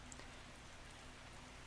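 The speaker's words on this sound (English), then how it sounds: "Well, I guess we have the sound of the rain." Rain ambience in Animal Crossing Happy Home Paradise plays as a soft, steady hiss of falling drops, quiet and continuous with no talking.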